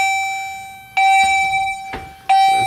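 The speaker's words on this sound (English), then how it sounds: "Chime strobe." A fire alarm chime strobe sounds loud and close, repeating a bright, sustained electronic chime tone three times with brief gaps between.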